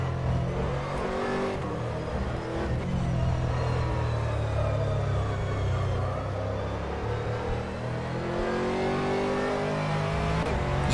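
Aston Martin race car engine in a racing game at Silverstone, droning loud and continuous with rising and falling revs through gear changes and a low rumbling undertone.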